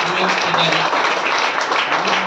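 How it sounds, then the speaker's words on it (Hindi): Applause from an audience at an open business meeting in Hisar, honoring Sagar Joshi; steady broadband clapping for about two seconds with a low voice-like hum underneath, fairly loud and continuous. "हमारे सागर जोशी जिन्होंने इस प्रोडक्ट को करे हैं उनके लिए मैं ताली चाहूंगा"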